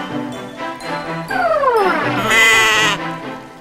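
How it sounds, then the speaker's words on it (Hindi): A goat bleats loudly and close by, giving a couple of wavering, throaty calls. They come over a faint background of other sounds, with no speech. "आपने मंगवाई हुई बकरी"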